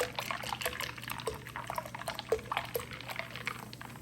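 Fizzy soda pouring into a bowl of holiday fruit punch, a steady liquid splash with crackling fizz and scattered drips running throughout at close range, with no talking.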